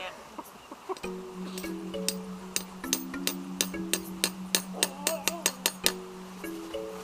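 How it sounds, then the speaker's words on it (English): A steady series of light metallic hammer taps, evenly spaced and ringing slightly, over a low steady hum outdoors. "just have something like a hammer and just give it a couple gentle taps"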